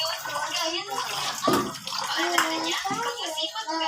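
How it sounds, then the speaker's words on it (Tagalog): A tap runs steadily as a child learns to wash dishes and plates, the water splashing in the sink under a child's and an adult's voices talking. "Buksan yung tubig."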